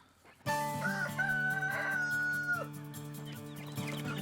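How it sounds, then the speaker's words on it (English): A rooster crows loudly and close by, with chickens clucking around it on a farm that also keeps ducks, geese, turkeys, goats and sheep. "I raise chickens"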